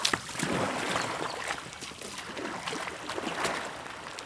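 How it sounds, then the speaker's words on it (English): An R1 whitewater raft is paddled, with nearby water swishing and splashing in repeated strokes, soft gurgles and occasional knocks against the boat. "now I paddle against it"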